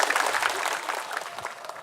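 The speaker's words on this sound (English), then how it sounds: "Round of applause" Audience applause at a London innovation competition final as a presenter is welcomed on stage: dense, steady clapping from a crowd, fairly close and even throughout, with no voices over it.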